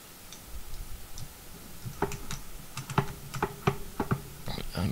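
A DIY SMD pick-and-place carousel clicks away in a quick, irregular run of sharp mechanical ticks, close and clear, with a faint hum beneath and no voices.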